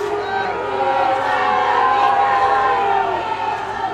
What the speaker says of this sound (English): The crowd is booing.